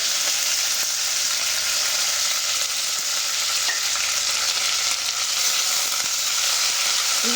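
Onions and green chillies frying in a pan give off a steady, even sizzle that stays loud and close for the whole stretch, with faint stirring clicks and no voices.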